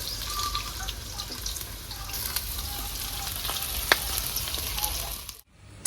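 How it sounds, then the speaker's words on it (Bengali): Chopped onions with whole garam masala (cinnamon, cloves, green cardamom) fry steadily in oil in a home kitchen, a continuous close sizzle with faint clinks and stirring, cut off abruptly near the end. "বন্ধুরা পেঁয়াজটা আমার ভালো করে ভাজা হয়ে গেছে।"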